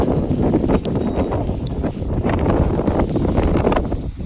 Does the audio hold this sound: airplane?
no